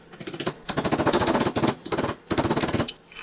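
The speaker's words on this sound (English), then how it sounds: "a little trick to take a socket and tap that guy home" A socket is tapped against a part during an AC fuel pump rebuild for a Triumph TR4 engine, giving bursts of rapid, loud metallic hammering in three quick runs with brief pauses.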